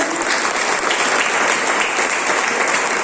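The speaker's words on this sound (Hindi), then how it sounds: "इनके लिए इतनी कितनी छोटी ताली" Steady, dense applause from an audience at an EMI tour event at Jim Corbett National Park in Uttarakhand, sustained at an even level throughout with no speech over it.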